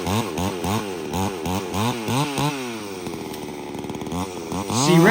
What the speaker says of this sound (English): See, right here I bogged the saw down.